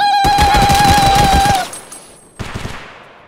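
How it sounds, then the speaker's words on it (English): A burst of rapid gunfire in the video game Tarkov, mixed with a high whining tone, then a short pause and a few quieter scattered shots. "The panic gunshots."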